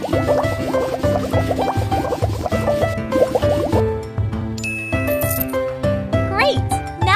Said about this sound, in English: First, we need shampoo. Let's wash her hair.